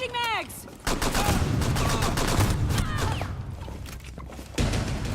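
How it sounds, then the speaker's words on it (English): Rapid gunfire bursts in a first-person shooter match, with sharp repeated shots, some whistling ricochet-like sweeps, and brief quieter gaps, loud and dense throughout. "He shot his teammate."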